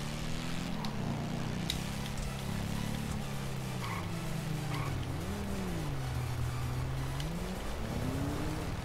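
Engine of a vehicle in Grand Theft Auto V during an overtake, a steady droning motor whose pitch rises and dips as it revs, continuous and moderately loud with no talking.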